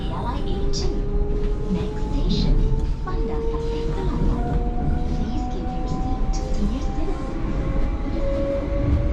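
An express rail train pulls out of KL Sentral station in Kuala Lumpur bound for the airport, a loud steady rumble of wheels and motors with rising whine and rhythmic track clatter heard from inside, a voice speaking over it.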